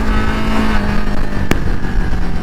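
Royal Enfield Himalayan single-cylinder motorcycle engine revving close and loud, a steady throaty drone with one sharp transient midway.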